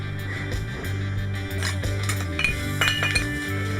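Pot and cutlery clinking as they are handled, loud close metallic clinks and clatters in an irregular series over a steady low hum.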